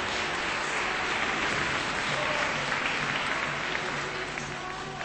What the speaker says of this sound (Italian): grande applauso ragazzi.